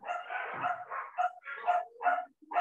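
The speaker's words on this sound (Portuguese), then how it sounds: "Olha os cachorros latindo." Dogs bark and yip in short bursts, several quick barks in a row, sounding somewhat distant and muffled, with brief pauses between.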